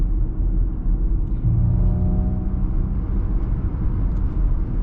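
Ford Mustang Mach-E electric car accelerating with its simulated drive sound in vibrato mode, a low droning hum rising under steady road rumble, fairly quiet throughout.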